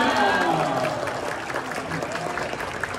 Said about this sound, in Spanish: Fuerte el aplauso para Dachi Patiño.